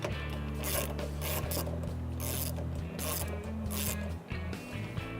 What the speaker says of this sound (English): remove the top two 10mm bolts here on the headlights